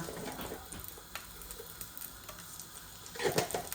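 Whole cumin seeds and two bay leaves sizzle in hot oil in a home kitchen, a soft steady crackle with a louder burst of spattering near the end, close by, with no talking.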